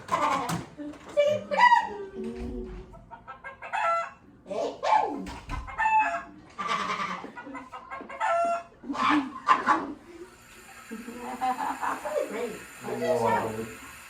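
Chickens cluck and squawk in repeated bursts, close by, with a rooster-like crow mixed in among the calls.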